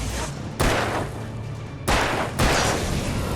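Three loud gunshots in the video game Alan Wake, spaced unevenly over a few seconds, each a sharp booming crack over a low, continuous game background.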